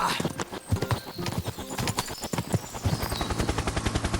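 A horse gallops in the Kingdom Come: Deliverance 2 video game, with rapid, rhythmic hoofbeats loud and close. Busy game sounds surround the hooves, which grow steadier toward the end.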